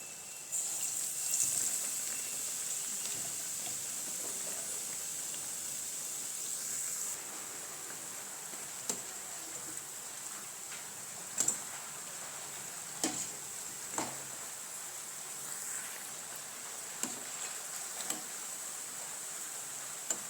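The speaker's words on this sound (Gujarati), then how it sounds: "તો તેમાં આપણે આવી જ રીતના બધા જ પકોડા તળી લેવાના છે." Bread pakoras fry in hot oil in a village-style kitchen, a steady soft sizzle and hiss with scattered small pops and clicks throughout, no voices.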